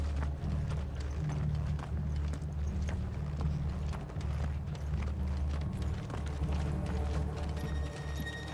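Horses gallop in Final Fantasy XVI, a steady, loud rumble of hoofbeats with clip-clop rhythm running throughout, dense and continuous with no talk.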